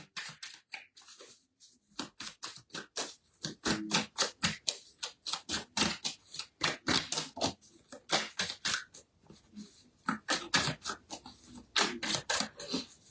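A deck of tarot cards is shuffled by hand, giving rapid, crisp riffling bursts in quick repeated clusters. The sound is close and clear, with short pauses between shuffles and no voices.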